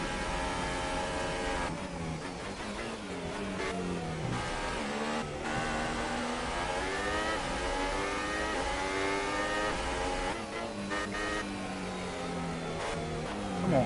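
A Formula 2 race car at Monza in a racing video game, its engine screaming continuously at high revs with rising and falling gear shifts, loud and close throughout with no talking.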